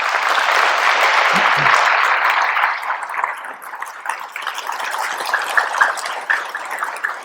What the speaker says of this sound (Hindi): एक बार जोर से ताली बजाइए अपने लिए।